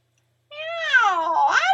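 A single drawn-out, rising-then-falling meow, likely voiced by a person imitating a cat, sounds close and clear after a moment of silence.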